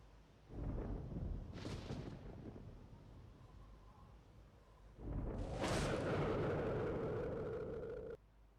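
A thunderstorm rolls through in the Arma 2 DayZ mod, with two deep rumbling thunder swells, the second louder and longer, ending abruptly, no voices.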